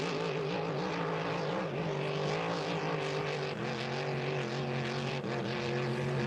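Vintage racing boat engines idling and revving at a hydroplane event in Saint-Félicien, a steady droning roar with a pitch shift midway, heard from a moderate distance with no talk.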